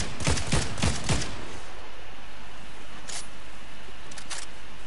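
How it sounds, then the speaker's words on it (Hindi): Several sharp gunshots from Fortnite crack in a quick burst, followed by scattered single shots after a quieter stretch, set against faint background noise. "एक आ रहा है कहीं से शॉट ना।"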